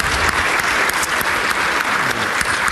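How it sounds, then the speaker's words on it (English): Loud, close, dense applause from an audience at an energy innovation summit pitching session rewards a presenter, holding at a steady level throughout. "Round of applause for Tucker."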